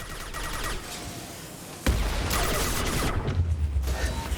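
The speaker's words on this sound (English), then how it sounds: "Just keep shooting." Gunfire in Mass Effect 2 Legendary Edition during a firefight: scattered shots at first, then a heavy burst of rapid, loud fire with booming impacts that continues to the end.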